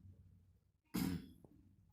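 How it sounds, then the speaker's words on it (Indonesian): A single short, husky throat-clearing burst from a man, close and abrupt, in an otherwise quiet room. "Pria itu berdeham."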